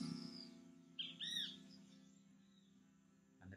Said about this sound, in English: Inviting you to blend in to the sound of the jungle, the birds